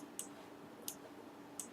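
Three sharp, evenly spaced clicks from a computer keyboard or mouse, light and close against a steady background hiss, with no talking.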